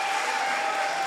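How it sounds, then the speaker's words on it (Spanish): Audience applause in a live comedy show, a short continuous burst of dense clapping at steady moderate loudness. "¡Un aplauso!"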